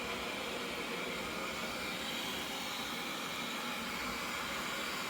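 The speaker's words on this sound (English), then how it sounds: "Miss Alice is now busy vacuuming." A WYZE robot vacuum cleaning a house gives off a steady, faint broadband whir and hiss, continuous and even throughout with no other sounds.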